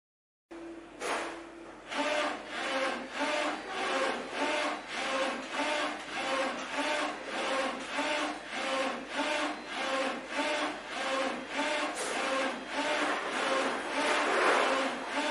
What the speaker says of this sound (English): Now we could take a look at the printing processing from this printer.